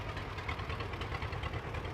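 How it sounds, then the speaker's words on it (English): A 1947 John Deere BO tractor runs at a parade with a steady, low, throbbing engine chug, moderately loud and continuous. "This is a 1947 John Deere BO tractor."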